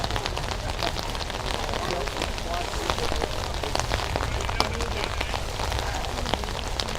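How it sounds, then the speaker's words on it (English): Steady rain drumming on an umbrella at an outdoor high school football game, a dense continuous patter with sharp drop hits that stays close and loud throughout. "Apologize for any audio that you are hearing of the rain off the umbrella."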